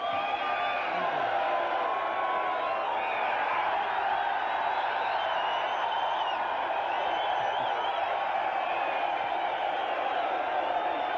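A crowd cheering and whooping at the 1993 Bathurst 1000 podium, a broad, continuous roar of distant voices under a commentator's talk.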